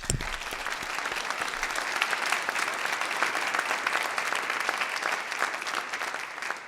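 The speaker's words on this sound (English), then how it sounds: "Give yourself a round of applause" Studio audience clapping for themselves at the close of a program, dense sustained applause from many hands, fairly loud and even, swelling briefly at the start and tapering slightly at the end.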